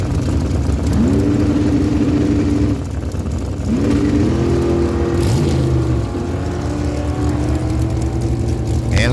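Drag race launch between a Racecraft 4-link dragster and a 1980 Datsun 280ZX: engines rev and climb in pitch over several gear runs, a loud steady drone with rising sweeps.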